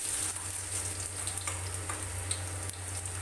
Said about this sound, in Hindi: मैंने 1 बड़े चम्मच सरसों के तेल को अच्छी तरह से हीट कर लिया है। इसमें डाल दूंगी मैं काट के रखे हुए लहसुन